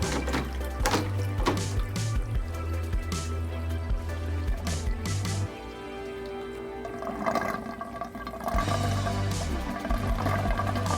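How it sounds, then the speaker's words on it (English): Continuous gurgling and trickling of water pouring down into a turtle aquarium's sump tank, with bubbling and splashing and a low hum underneath. "That tells me that there's water flowing down into the sump."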